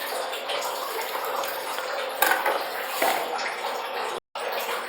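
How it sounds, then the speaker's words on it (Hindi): Raw chicken meat is washed under running water, a steady close splashing stream with brief louder splashes as the pieces are handled, cut off momentarily near the end before resuming. "गोश्त को धोते हैं, धो के इसमें ऐड कर देंगे।"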